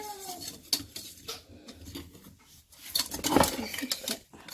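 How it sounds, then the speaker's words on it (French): Birthday cake batter with vanilla sugar being mixed in a bowl, giving irregular soft clinks and scrapes of utensil against dish, with a louder burst of scraping near the end, fairly close. "on mélange un petit peu"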